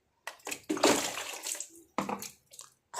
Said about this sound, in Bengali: আমি এখন মুখ ধুচ্ছি, ব্রাশ করছি।